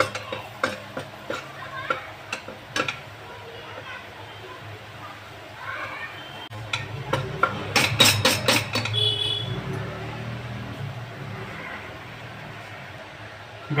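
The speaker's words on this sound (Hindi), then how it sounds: "इसको ये भूनना है हमें हल्का हल्का" Flour roux for white sauce pasta is roasted and stirred in a pan, with a spatula scraping and tapping in irregular strokes and a soft sizzle building in the second half, while a voice talks throughout.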